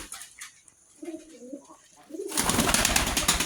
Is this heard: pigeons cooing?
yes